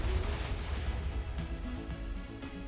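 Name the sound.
cannon firing in Minecraft video game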